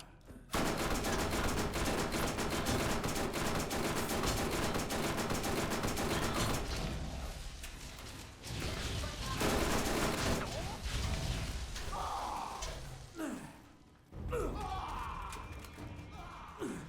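Rapid gunfire in the video game Borderlands: dense, continuous bursts of shots for several seconds, then scattered thuds and clanks with pauses, while players talk faintly underneath.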